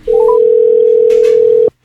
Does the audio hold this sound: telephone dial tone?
yes